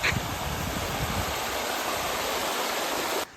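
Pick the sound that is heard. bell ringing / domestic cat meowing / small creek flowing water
small creek flowing water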